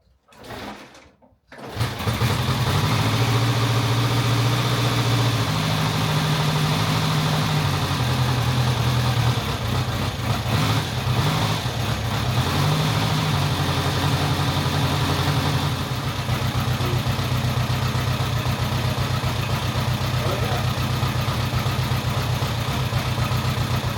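A 1948 Ariel Square Four motorcycle engine catches after a kickstart and settles into a steady, loud idle with a smooth, even burble that wavers slightly as the throttle is blipped, running continuously with no talk.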